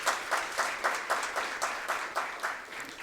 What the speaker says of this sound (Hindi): एक बार जोरदार तालियां डॉक्टर शिवेंद्र कश्यप जी के लिए।